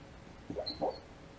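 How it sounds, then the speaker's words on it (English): A sleeping dog lets out a couple of short, soft whimpering yips close by, a brief muffled pair of cries against a quiet room. "sorry my dog's dreaming"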